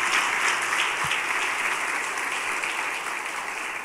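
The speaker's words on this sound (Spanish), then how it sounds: "Dale un aplauso a Dios por eso" A church congregation applauds during a sermon, steady dense clapping that fills the room, holding strong and fading only slightly toward the end.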